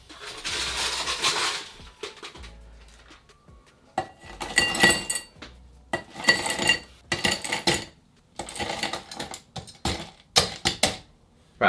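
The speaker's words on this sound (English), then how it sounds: "I'm going to fill it with crushed ice and put to one side." Crushed ice is scooped and packed into a rocks glass in bursts of crunchy, glassy clinking and rattling, close and fairly loud. The bursts are separated by short pauses, and no one speaks.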